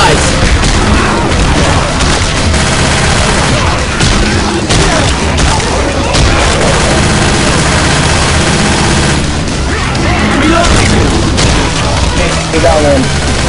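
In a Left 4 Dead 2 custom map, players fire nonstop at a large zombie-spawning boss. Loud, dense, continuous gunfire and booming impacts fill the whole stretch, with players shouting underneath.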